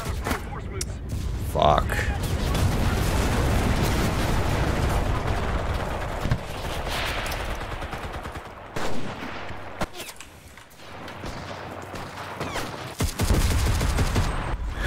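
Rapid bursts of M1 Carbine gunfire in the WWII shooter Enlisted, with explosions and battle noise throughout and a man swearing over the din.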